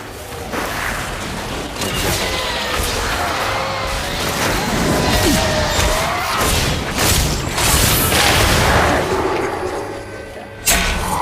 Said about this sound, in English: So the only ability we haven't seen yet is Falling Sword. Let's do that now.